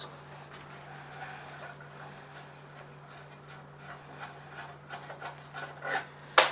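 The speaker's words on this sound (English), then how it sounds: "This is a washer. I'm going to file it." A file scrapes back and forth across a metal washer in steady, faint rasping strokes, growing slightly louder toward the end with a sharp scrape at the close.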